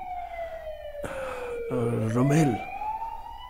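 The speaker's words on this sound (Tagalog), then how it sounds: "Andyan na yung ambulansya." An ambulance siren wails loudly nearby, its pitch sweeping steadily up and down over a few seconds while a person briefly speaks over it.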